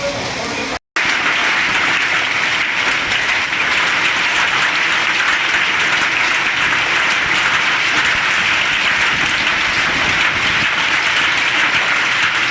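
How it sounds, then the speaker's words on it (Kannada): Hail and heavy rain hammer down together in a dense, loud, unbroken clatter that runs the whole time after a brief cut near the start. "ಆನೆಕಲ್ಲು ಸಹಿತ ಮಳೆ ಸಿರುವಾರದಲ್ಲಿ ಬರ್ತಾ ಇದೆ"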